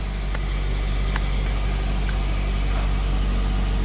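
A 2006 Mazda 3 with a shift solenoid fault idles with a steady low engine rumble, evenly and close by, with a few faint clicks on top and no talking.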